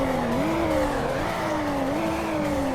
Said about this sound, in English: it uses the B58 engine for most BMWs, and it doesn't really sound that good in this game